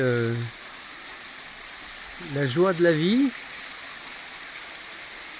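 A small waterfall near a rock temple in Ella, Sri Lanka, with flowing water giving a steady, soft rushing hiss throughout, while a voice speaks briefly at the start and in the middle.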